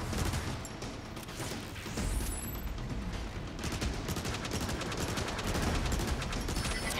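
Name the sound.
weapon fire in Transformers War for Cybertron video game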